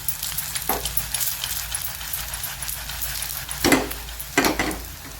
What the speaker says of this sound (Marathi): पहा आता या वड्या मी परतून घेत आहे